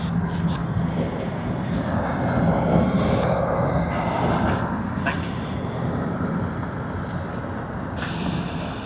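A Dash 8-400 turboprop at Sydney Airport gives a loud, steady engine roar with a low rumble and whine that swell a little midway, while people talk over it.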